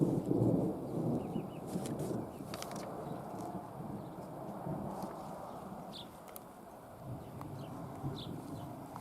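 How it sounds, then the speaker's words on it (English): Distant thunder in a summer thunderstorm near a forest fire: a low, drawn-out rumble that rolls on and slowly fades, with faint bird calls above it and no voices. "Thunder and lightning."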